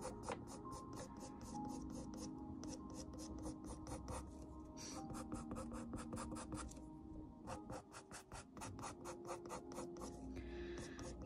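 A Faber-Castell Pitt pastel pencil drawing on paper, with close, repetitive scratchy strokes in quick rhythmic bursts and brief pauses, fairly faint and alone.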